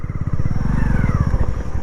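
Motorcycle riding in fourth gear, its engine chugging in a fast, even pulsing beat, loud and close throughout the short stretch with no talk over it.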